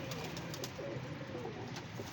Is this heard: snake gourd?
no